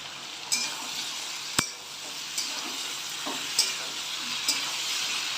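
Ginger paste and tomato sautéing in a pan, a steady close sizzle broken by a few sharp clinks of a spoon against the pan.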